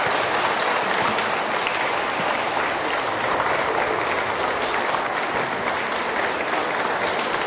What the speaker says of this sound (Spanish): Un fuerte aplauso a los esposos nuevamente.